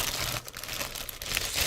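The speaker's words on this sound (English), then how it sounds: "I'm going to put them in that plastic bag" Trading cards, Pokemon and Yu-Gi-Oh, go into a plastic bag, giving close, quiet crinkling and rustling of plastic that lasts a little over a second, with no talking.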